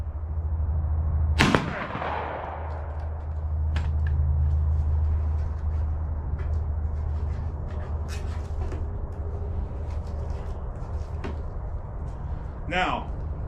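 A Civil War re-enactor's musket fires once, a loud, near sharp blast that tails off into a fading rumble, over steady low outdoor noise. A faint later crack follows, with no talking.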